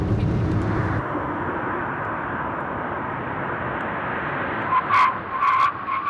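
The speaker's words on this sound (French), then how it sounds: "Nicolas repart sur le circuit et relance la voiture à 130 km/h." A car driven at about 130 km/h on a race circuit produces a steady loud roar of engine and tyre noise, with a few sharper squealing bursts near the end.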